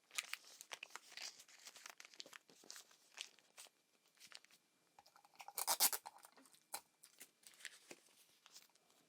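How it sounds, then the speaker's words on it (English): Tape is ripped and pressed around the base of a paper cone, making a string of faint, close crinkling and tearing bursts with an uneven rhythm and one louder rip near the middle. "Just taping up"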